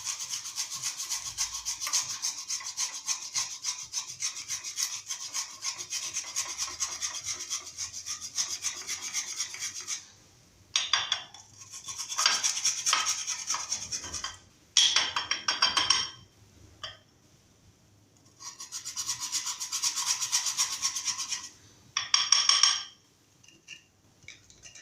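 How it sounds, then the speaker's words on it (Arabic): Bath scrub mitt rubbed over skin in a hammam, rhythmic rasping strokes in several bursts separated by short pauses, close and fairly soft. "غادي نشد منه وغنحكو هكا هاد الحكاكه العجيبه ديالي"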